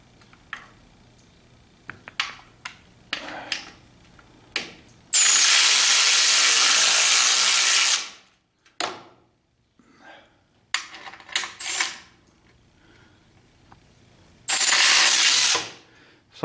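A ratchet tightens brake lines on a 1976 Corvette, heard up close as bursts of rapid clicking pawl strokes between pauses, with occasional metallic taps and no voices.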